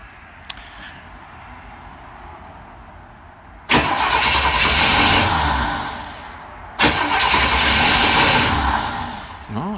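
The 194 engine in a 1963 Chevy Nova cranks loudly nearby with a brief sputter of first firing, stops, then cranks again in a second long burst against a quiet background.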